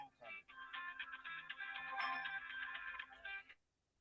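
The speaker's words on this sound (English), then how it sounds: "Now he got a phone call." A phone rings with an incoming call, a warbling electronic ringtone playing for about three seconds, fairly faint and close, then cutting off into silence.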